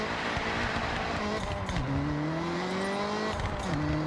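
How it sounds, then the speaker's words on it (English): Video game car with a turbo engine, a loud steady engine drone that climbs in pitch through the gears with brief dips at the shifts, no talk. "that turbo sounds clean"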